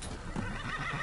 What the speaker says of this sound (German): Das ist ein passendes Pferd für mich.